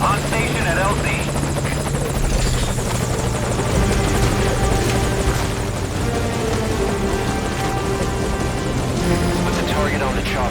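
Helicopter in Metal Gear Solid V: Ground Zeroes, a steady loud rotor drone that holds for the whole stretch, with game voices and radio chatter over it.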